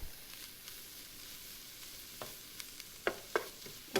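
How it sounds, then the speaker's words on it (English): Carrots stirred into a skillet for cheesy potatoes: quiet spoon scrapes and a few sharp clinks against the pan over a faint sizzle, with no talking. "I'm going to go ahead and add our carrots here. I'm going to give it a nice little mix."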